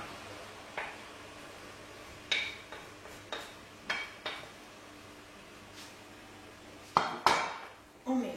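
A utensil scrapes and knocks against a pot as flour is vigorously mixed into boiling water, giving scattered clinks and taps over a quiet background, with a louder cluster of knocks near the end.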